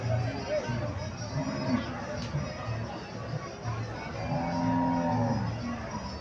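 Cattle at the Chandimura cattle market, with a cow lowing in long, drawn-out moos over a steady background of crowd chatter and market bustle.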